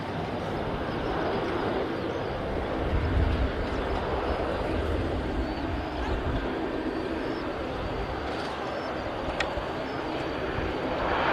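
An airplane in Sumo Artworks livery at Manchester Airport gives off a continuous broad engine roar at moderate distance, steady and unbroken throughout.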